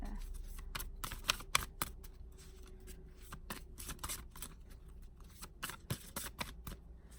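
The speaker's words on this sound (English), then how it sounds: "I do apologize if it does take a while to shuffle these cards" A deck of tarot cards is shuffled by hand, giving quiet, close riffling bursts and soft snaps in an uneven rhythm over a faint, low background hum.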